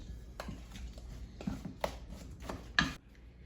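Brown sugar being mixed into a date and Rice Krispies cookie batter with a utensil, giving a series of soft, close scraping and thudding strokes against the bowl at an uneven rhythm.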